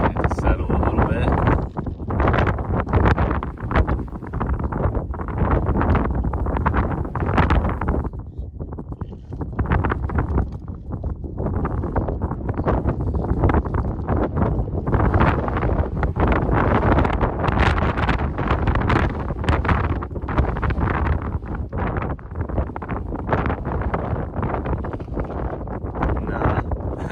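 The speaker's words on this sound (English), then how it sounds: "the wind is kind of shaking my buggy here" Strong wind buffets an outdoor microphone and shakes a Speedy R2 moon buggy RC car, giving a loud, continuous rumbling roar with gusty surges that briefly ease near the middle.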